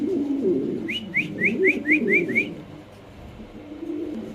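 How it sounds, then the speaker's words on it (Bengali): Caged pigeons for sale at a market coo in a quick run of about six short rising calls, close and clear over low background murmur. "কবুতরের ডাকটা একটু দেখাই দিই"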